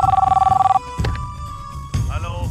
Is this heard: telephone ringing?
yes